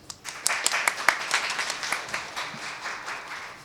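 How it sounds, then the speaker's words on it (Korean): Audience applause greeting panelists at a Korean economic policy panel on household debt, crisp individual claps building into a steady patter that gradually thins and softens. "일괄적으로 5분 박수로 일단 시작을 하도록 하겠습니다"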